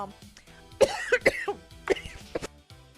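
Several harsh coughs in a quick cluster, close and fairly loud, followed by a couple of lighter throat-clearing coughs.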